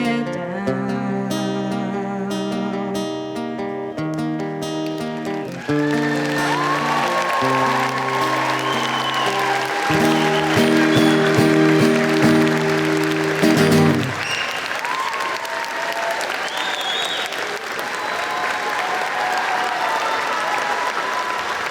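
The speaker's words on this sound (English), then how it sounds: "Another big round of applause." Song accompanied by held instrumental chords, then a crowd at a tech school graduation breaks into sustained applause that swells over the final notes and carries on alone with some cheering.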